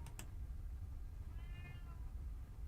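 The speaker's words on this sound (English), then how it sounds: "And there's my kitty." A pet cat gives one faint, drawn-out meow indoors in a quiet room, preceded by a couple of brief clicks.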